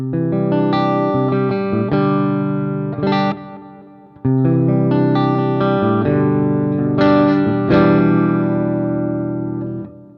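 Electric guitar played through a boutique amp model in AmpliTube 5 with its built-in reverb, loud sustained chords ringing out with reverb tails, one short gap between phrases, no talking.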